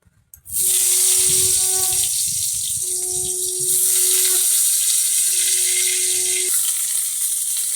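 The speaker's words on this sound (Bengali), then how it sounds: "এইবারে আমি দিয়ে দেব কেটে রাখা ঝিঙেগুলোকে" Cut ridge gourd hits a hot pan with nigella seeds, setting off a loud, steady sizzle that rises abruptly and holds throughout, with a faint voice and a low tonal hum beneath.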